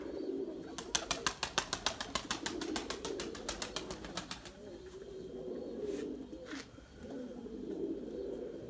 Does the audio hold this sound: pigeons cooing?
yes